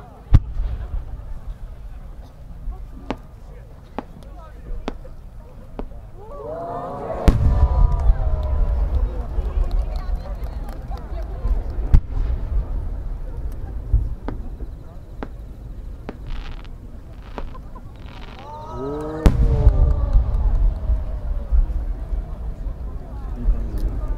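Firework shells burst in the distance with deep booming thuds, two big explosions standing out over a steady low rumble and scattered crackles, at the 2019 Omagari fireworks competition in Japan.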